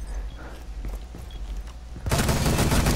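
Rapid bursts of gunfire in the tactical shooter Rainbow Six Siege, a few loud cracks and then a dense, sustained volley of automatic fire filling the last second.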